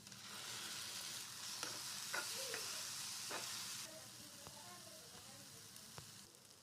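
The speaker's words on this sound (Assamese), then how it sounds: "এতিয়া ভাজি ল'ম।" A mixture of egg and roasted eggplant fries in a pan, giving a quiet, steady sizzle with scattered spatula scrapes and taps as it is stirred.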